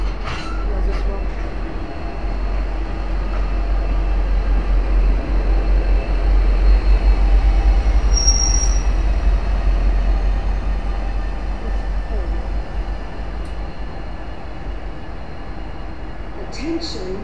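A V/Line N class diesel locomotive, N456, rolls through a station with a steady loud rumble and a brief high wheel squeal partway through, with distant voices in the background.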